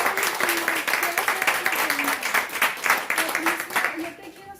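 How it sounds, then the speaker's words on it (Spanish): An audience applauds after a request for applause at a Spanish-language book event, dense clapping at moderate level that fades toward the end. "Le pido un aplauso."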